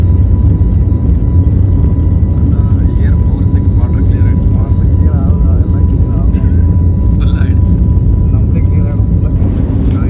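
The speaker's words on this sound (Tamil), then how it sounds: "பறந்துட்டான். டெல்லிக்கு புறப்பட்டு கிளம்பிட்டோம்." Loud, steady roar of a passenger jet's engines during takeoff, heard from inside the cabin on a flight departing for Delhi, a broadband rumble running throughout with people talking over it.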